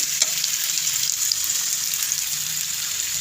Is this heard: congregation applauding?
no